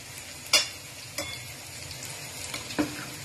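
Thick masoor dal with coconut is stirred slowly in a pot, a soft steady bubbling sizzle broken by three sharp spoon scrapes against the pot.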